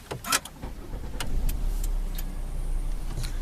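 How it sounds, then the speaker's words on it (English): A car engine starts up inside a vehicle fitted with dual-control hand controls, giving a short cranking burst followed by a steady low idle rumble that continues close by. "Turn the engine on."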